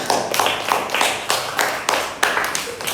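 Schoolchildren in a primary classroom clap together in a quick, rhythmic pattern, a series of close, loud bursts of claps repeating at a steady beat.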